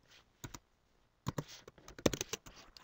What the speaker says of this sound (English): you'll want to type in the date.